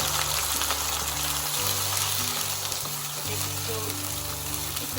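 Blended paste of two medium onions frying in hot oil with cardamom pods and bay leaf for a shrimp kofta malai curry, giving a steady close sizzle and bubbling that runs continuously.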